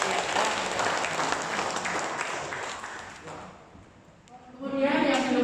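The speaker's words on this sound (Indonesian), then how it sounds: "Tepuk tangan untuk Bapak ya." Church congregation applauding a speaker during a sermon session, a few seconds of moderate clapping that fades out, then a voice begins speaking near the end.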